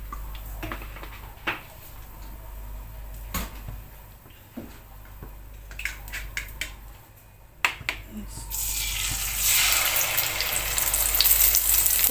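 Omelette egg frying in plenty of oil in a home kitchen, a faint crackle at first with scattered clicks and taps, swelling into a loud, steady hiss of sizzling over the last few seconds.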